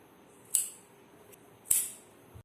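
Two sharp scissor snips cutting slits into lining fabric for a blouse, each a brief crisp clip with a pause between, close and quiet on a near-silent background.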